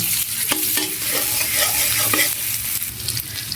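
Onions frying in oil with cumin seeds, a loud, close, continuous sizzle broken by several sharp scrapes of a spatula against the pan, with no voices.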